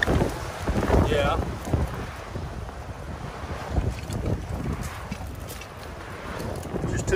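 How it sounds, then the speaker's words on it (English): Strong wind blows hard across an open hilltop at a rattlesnake den in Oklahoma, a loud constant roar with gusty buffeting on the microphone and a voice faintly audible beneath it. "The wind is something else up here."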